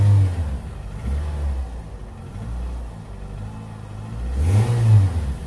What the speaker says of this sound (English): what I'm hearing is a rattle from the engine, not mechanics, but like motor mounts